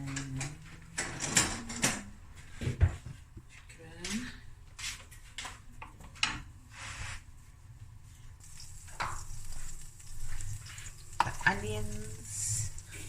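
Garlic and parsley butter melts in a pan for a seafood boil, giving a quiet sizzle under scraping and stirring, occasional clinks of utensils on the pan, and people talking nearby.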